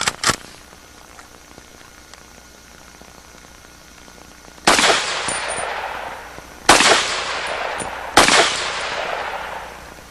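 Walther WA 2000 self-loading rifle in Win Mag firing at a rock downrange, with three loud, sharp shots spaced a couple of seconds apart, each followed by a long rolling echo, after a faint crack near the start.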